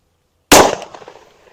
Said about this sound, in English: We're going to be shooting this over the lab radar.